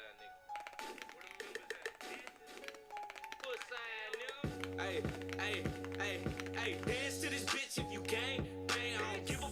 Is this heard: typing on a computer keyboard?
yes